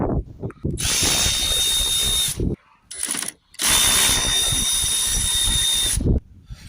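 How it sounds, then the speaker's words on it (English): A power drill driving out T30 bolts from a Ford Transit MK8 headlight, two long loud whirring runs with a brief burst between them, close up with short pauses. "we're going to remove these T30 bolts here from the"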